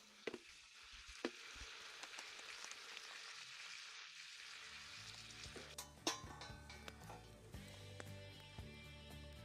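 Rice and spices frying in a pot for pilaf at a campsite during a hike in Chechnya: a steady sizzle runs throughout, with clinks and scraping of a utensil against the pot growing busier toward the end.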